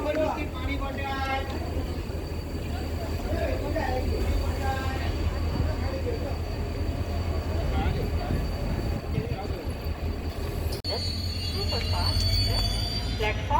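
A Gandhigram–Bhavnagar Terminus passenger train running between Sarkhej and Botad gives a steady, loud rolling rumble with faint metallic wheel squeals, while people talk over it throughout.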